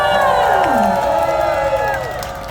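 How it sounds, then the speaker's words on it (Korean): A crowd at a candlelight rally cheers and whoops loudly, with overlapping shouting voices rising and falling above a dense wash of noise that slowly fades toward the end. "뜨거운 박수 부탁드리겠습니다"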